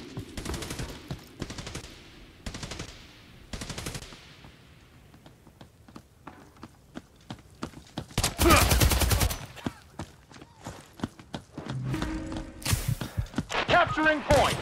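Gunfire crackles through a Hired Ops firefight, with several rapid automatic bursts and scattered single shots, some close and loud, others thinner and farther, mixed with shouted voices.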